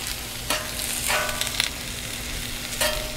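Butter and mushrooms sizzle on a hot griddle, a loud close hiss with bursts of stronger spattering and metallic scraping at intervals. A faint steady hum runs underneath.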